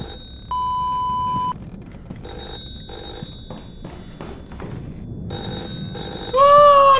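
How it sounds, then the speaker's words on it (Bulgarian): A landline home telephone in an abandoned house gives one steady electronic ring, then pauses amid faint shuffling and knocks, and a louder warbling ring cuts in near the end. "Домашен телефон!"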